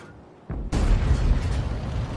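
A 105 leFH18B2 artillery gun fires in a video game, a single heavy boom after a short quiet lead-in, followed by a loud rumbling tail that lingers.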